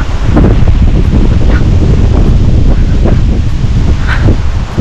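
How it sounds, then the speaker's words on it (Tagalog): Strong wind roars steadily through trees in cold, windy weather, a loud continuous gusting rush with rustling leaves and buffeting on the microphone, no voices. "Sobrang lakas na ng hangin ngayon."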